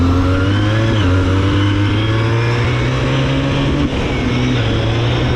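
A big bore two-stroke engine drives steadily, its loud, buzzing harmonic drone holding close and continuous, with the pitch dipping briefly during a throttle change.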